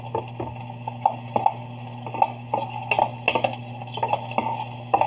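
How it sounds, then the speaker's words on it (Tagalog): Okra stirred in a cooking pan, a run of close, irregular scrapes and clinks of the utensil against the metal over a low steady hum, with no voices. "Haluin lang natin hanggang maluto."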